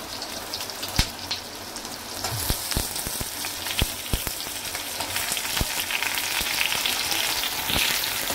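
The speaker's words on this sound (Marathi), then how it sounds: "टमाटर आणि कांदा आपण चांगला फ्राय करून घेऊ" Tomato and onion frying in a pan give a steady, close sizzle with occasional sharp crackles and pops, broad and continuous throughout with no talking.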